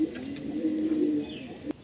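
Madrasi pigeons in a loft coo in a low, rolling murmur, one sustained call close by with a faint chirp and a sharp knock near the end.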